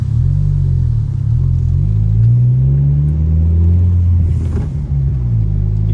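A 2020 Honda Civic Si with a MAPerformance street exhaust burbles low and throaty at close range, the engine note rising and falling smoothly with a steady rumble and no voices.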